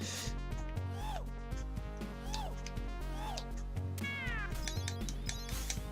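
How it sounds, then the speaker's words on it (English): Cartoonish cat meows from the Sega Mega Drive game Moonwalker ring out repeatedly over looping chiptune music and sound effects, several rising and falling cries spread across the stretch. "What is with the cats?"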